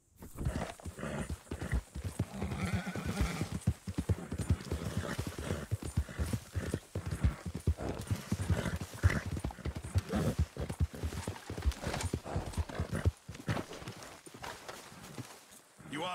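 A horse in Red Dead Redemption 2 clip-clops along in a quick, continuous rhythm of close hoofbeats, broken by a neigh and scattered game sounds.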